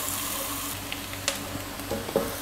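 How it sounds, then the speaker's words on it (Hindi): Onions fry gently with cumin and dry coriander over medium-low heat, giving a soft, steady sizzle close by, broken by a few light clicks and scrapes from stirring. "सिर्फ 1 मिनट के लिए हमने प्याज़ों को मीडियम टू स्लो हीट पर फ्राई किया"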